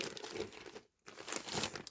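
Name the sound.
crinkling plastic bag being opened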